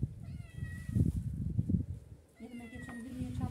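A thin cat meows several times up close, short plaintive calls mixed with someone talking nearby.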